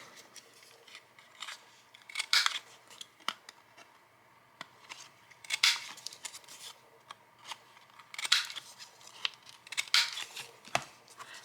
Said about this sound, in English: But let me round my corners.